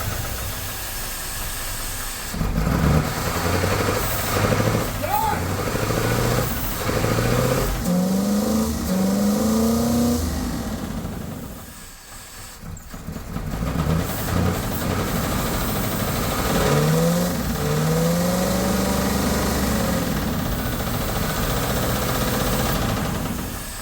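A 1978 Cadillac DeVille that sat for more than fifteen years runs close by, idling roughly and revving up and down several times, with a brief dip before picking back up.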